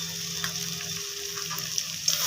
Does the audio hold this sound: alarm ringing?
no